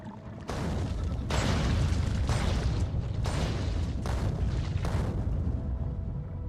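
Heavy artillery shells in Factorio pounding enemy nests and behemoth worms, a series of five or six loud booming blasts roughly a second apart over a continuous low rumble.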